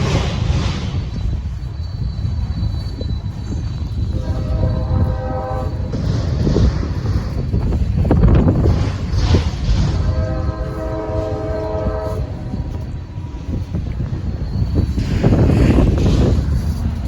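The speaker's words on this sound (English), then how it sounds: "there's another NS train coming in down the track" A Norfolk Southern freight train approaches along the main line, its horn sounding in repeated long blasts over a steady rumble of wheels and railcars that grows louder as it nears.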